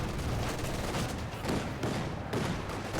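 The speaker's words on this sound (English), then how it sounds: "the Vickers K light machine gun" Vickers K light machine gun fire in a Company of Heroes 2 battle, a dense rapid clatter of automatic bursts blending with other gunfire, loud and continuous across the whole stretch.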